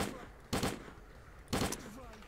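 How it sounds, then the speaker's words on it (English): Gunfire in the video game S.T.A.L.K.E.R.: Clear Sky, two sharp, loud shots about a second apart, each with a short tail, over a quiet background. "let's use the remaining bullets we have on this one"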